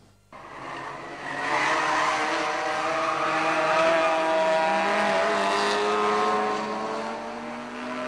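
Rally cars race around a wide circuit in Batumi, Georgia, with a loud sustained engine drone rising in pitch as cars accelerate past, steady for several seconds.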